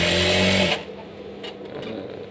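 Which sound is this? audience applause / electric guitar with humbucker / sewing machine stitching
sewing machine stitching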